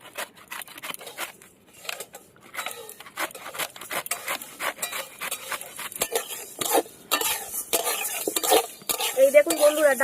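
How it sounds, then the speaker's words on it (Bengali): Lentils frying in a metal pan while a utensil stirs and scrapes them, giving dense, irregular clatter and scraping with a light sizzle underneath; close and fairly loud, with no voices. "এই দেখুন বন্ধুরা, ডালটা কিন্তু আমি ভেজে নিয়েছি।"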